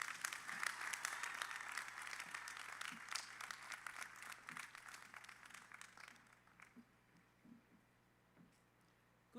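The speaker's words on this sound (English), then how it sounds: "Please give her a big round of applause." An audience at the University of Johannesburg's academic opening and first-year welcome ceremony claps in a quiet, distant, steady patter that thins out and fades after about six seconds.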